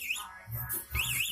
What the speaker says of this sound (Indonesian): dia misalkan dinyalain lagi, dia bunyi terus si alarm, ini motor gak bakalan bisa nyala